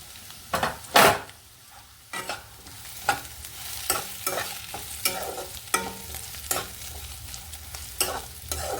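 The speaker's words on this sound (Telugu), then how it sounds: "వేగినాయండి బాగా. ఇంకా కొంచెం వేగితే చాలండి." Bitter gourd pieces coated in spice powder fry in a pan, a soft sizzle beneath repeated scraping strokes of a spoon stirring at an uneven rhythm.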